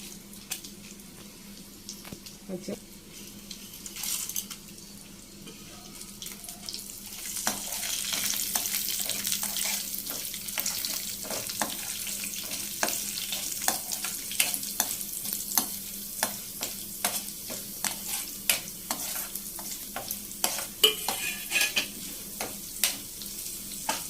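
Dry red chillies and mustard seeds fry in a tempering, a steady close sizzle that swells after a quiet start, peppered with crackling pops and the scrape of a spoon stirring the pan.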